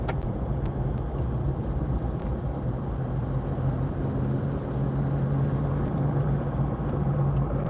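Car driving along a scenic road near Big Bear, California, a steady close engine and road rumble with constant wind and tire noise, no voices.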